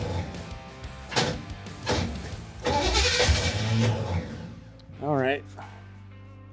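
A misaligned starter on a 1965 Chevelle whirs as it spins without engaging the flywheel, with short cranking bursts and a rising whine near the end, heard close up while people talk.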